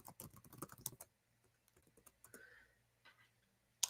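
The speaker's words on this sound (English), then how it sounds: "I'm going to type it really fast." A rapid flurry of fast keystrokes on a computer keyboard, close and crisp, lasts about a second before dropping into near silence, with only a few scattered faint taps afterward.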